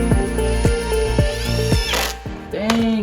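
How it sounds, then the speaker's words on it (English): A power drill whirs in short bursts close by while pre-drilling holes in wooden boards, its motor pitch rising and falling between pauses, with a clicking mechanical rattle. "she's pre-drilling the top hole first for these boards and then adding the screw"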